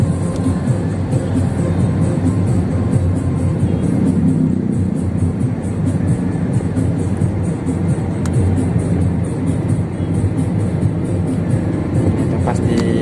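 A manual car being driven on a road and easing off the throttle to slow down, with a steady, close engine and road rumble running throughout with no break.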